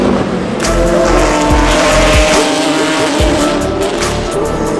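Race cars at the 24 Hours of Le Mans in 2018 roar past close at the trackside, loud engines rising and falling in quick succession as each car sweeps by.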